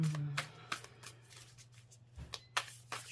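Tarot cards riffled and shuffled in several quick bursts close up, with soft taps and pauses between, quiet overall.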